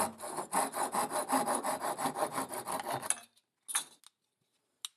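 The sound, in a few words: tapering wooden marking gauge handle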